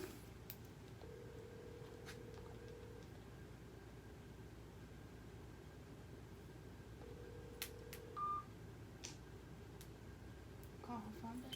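Faint telephone dialing tones, two sustained beeps a few seconds apart with a short higher bleep later, heard over a hissy background with soft talk.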